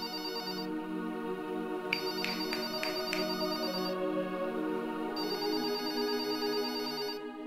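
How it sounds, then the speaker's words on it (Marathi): A phone ringtone plays a repeating electronic melody, with bursts of rapid chiming tones between stretches of a steadier tune, fairly loud and alone. "फोन उचल."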